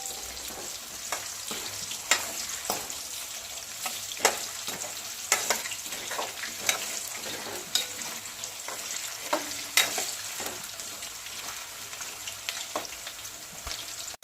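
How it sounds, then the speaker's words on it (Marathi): Potatoes frying in oil in a pan for aloo matar pulao, a busy crackling sizzle with repeated knocks and scrapes of a spatula, steady and close, with no voices. "थोडा फ्राय करून घ्यायचं बरं का बटाट्याला। लालसर होईपर्यंत फ्राय करायचं।"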